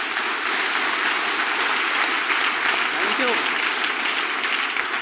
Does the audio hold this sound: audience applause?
yes